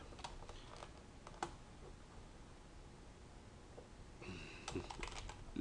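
A computer keyboard is typed on while a title is entered, in quick bursts of light clicking keystrokes at the start and again near the end, faint and close with quiet background hiss.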